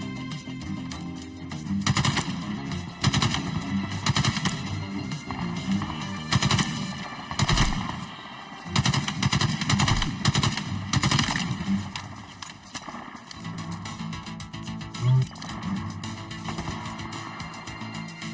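Video game gunfire in Call of Duty Modern Warfare 2, with rapid automatic bursts and repeated shots rolling continuously over a dense, busy background of game effects, loud and sustained throughout.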